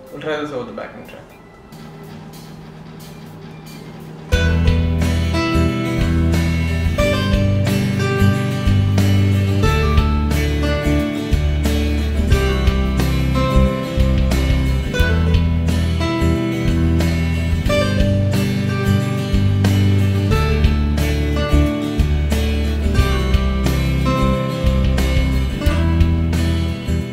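A guitar improvises in a minor key over a loud full-band backing track with drums and bass. A short quiet lead-in gives way to dense, steady music that carries on throughout.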